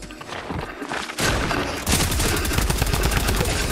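Rapid gunfire in a Fortnite match, with loud bursts of automatic shots that grow denser and more sustained toward the end.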